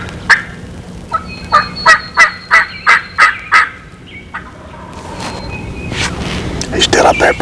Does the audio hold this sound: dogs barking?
no